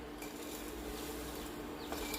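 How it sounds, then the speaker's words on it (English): Oil crackles and sizzles steadily in a pan as chilies fry, a soft continuous frying hiss with faint clinks, heard up close and quiet. "it's nicely just bubbling and frying away"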